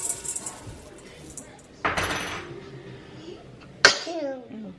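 A child sneezes twice in a home kitchen during baking, two short sharp bursts a couple of seconds apart, close by, with faint clinking of dishes and quiet background voices.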